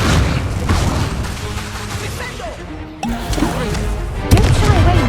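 An Incendio fire spell is cast during a Hogwarts Legacy duel, with sharp whooshing bursts and heavy thuds, two abrupt loud hits standing out amid a busy combat mix of clashing impacts.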